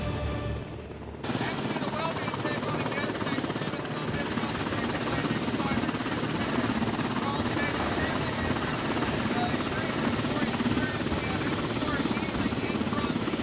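A Coast Guard rescue helicopter in Alaska, its rotor chop and turbine roar loud and close, starting abruptly after a brief quieter moment and then holding steady and heavy throughout.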